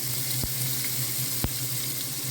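Chopped onion, beans and capsicum sizzle steadily in a pan, a dense close frying hiss throughout with two brief taps of a utensil.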